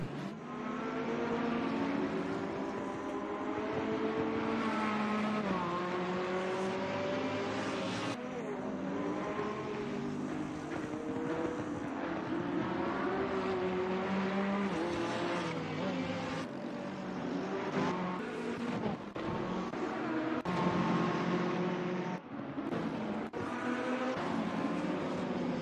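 Race cars roar around the Hungaroring circuit in a GT3 racing game, among them a Ferrari 488 GT3, Lamborghinis and a BMW, engines droning and shifting pitch steadily without a break.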